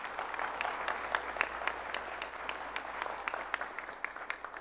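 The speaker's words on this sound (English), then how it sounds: "I want to be able to start with this round of applause" A room full of people at a school district's state of the district address gives a round of applause, a steady dense clapping that holds for several seconds.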